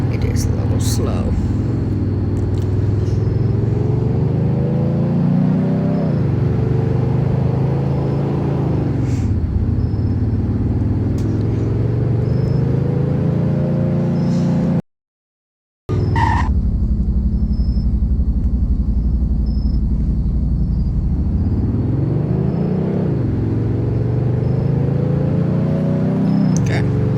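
Interior of a 192-horsepower car in limited trim, engine droning and rising in pitch through repeated accelerations, each pull ending as the revs drop and climb again, loud and steady; a brief dropout near the middle.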